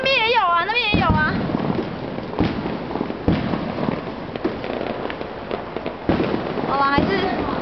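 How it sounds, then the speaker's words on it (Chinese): Fireworks exploding outside a home at night give several sharp, booming bursts, some near and some farther off, under almost constant talk from family members, including a child. "那边也有烟火啊"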